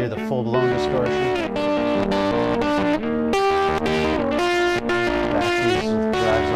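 An electric guitar at full distortion through a Radial Space Heater preamp, drive set high, plays sustained, thick, saturated chords and notes, loud and continuous with no pauses.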